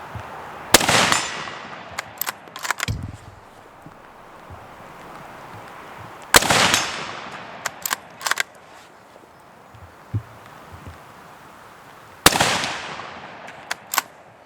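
Rifle shots from a Ruger American Scout fired at a swinging silhouette target outdoors: three loud, sharp cracks spaced several seconds apart, each with a ringing tail and a scatter of smaller knocks between them.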